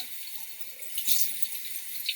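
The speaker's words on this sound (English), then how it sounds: "Then we're going to rinse from top to bottom" Running water from a faucet pours steadily as hands are rinsed in a sink, a close, continuous splashing hiss with no talking.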